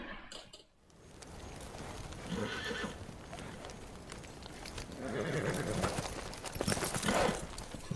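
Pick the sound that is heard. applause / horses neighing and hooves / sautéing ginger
horses neighing and hooves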